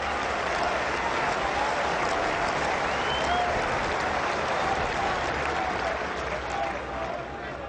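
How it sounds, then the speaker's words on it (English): At a 1997 England versus Australia cricket test match, a large stadium crowd cheers and applauds steadily, a broad sustained wash of clapping and voices heard from a distance. "Big cheer as Devon Malcolm gets a boot on that one"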